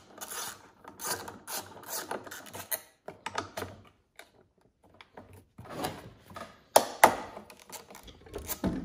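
Bolts come off a golf cart engine during a teardown: a close ratchet clicks in quick rapid bursts, with metallic clinks and pauses between strokes.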